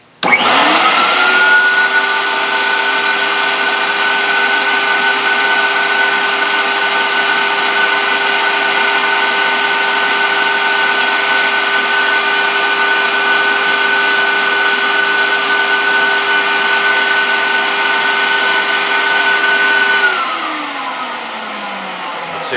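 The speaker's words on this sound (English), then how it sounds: "Now that I've applied the fluid to the record, vacuum it off." A Nitty Gritty 1.5fi record cleaning machine vacuums fluid off a record: a loud, steady motorized whine with a strong tonal hum runs without a break for about twenty seconds, then winds down near the end.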